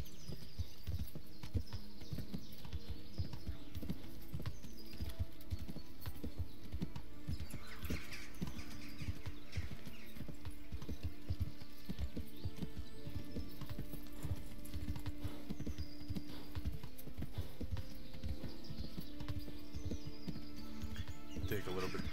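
Horse hooves clip-clopping steadily along a road in the medieval video game Kingdom Come: Deliverance, a continuous pattering gait under quiet in-game ambience and occasional talking.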